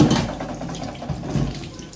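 Tap water runs steadily into a sink while potatoes are washed in a kitchen, a continuous splashing flow with small shifts in intensity as the potatoes are handled, close and without talking.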